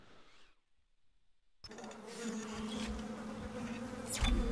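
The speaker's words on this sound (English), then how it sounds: "I hear bees" Insect-like buzzing from bees or flies in the Dead Space video game, a droning hum that starts abruptly after a near-silent gap and continues steadily, swelling slightly toward the end.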